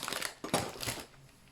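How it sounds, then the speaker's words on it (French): Plastic packaging of rodent food treats crinkles and crushes up close in a few quick bursts, loud at first and then trailing off into quieter rustling. "Oh, désolée pour le bruit de plastique."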